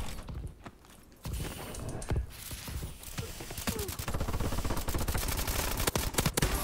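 Rapid gunfire from the video game Call of Duty: Advanced Warfare, dense bursts of shots crackling continuously and growing louder through the second half, with a quieter stretch near the start.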